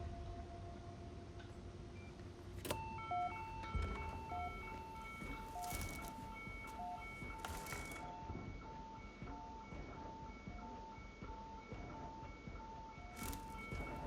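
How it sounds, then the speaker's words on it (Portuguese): A fire alarm in the Hitman World of Assassination video game beeps in a steady repeating electronic pattern, moderately loud and continuous over background game ambience and a few sharp clicks, with no talk. "Alarme de incêndio?"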